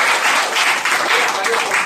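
A brief burst of vigorous clapping from a crowd at a venue program, loud and close, with the dense patter holding steady throughout.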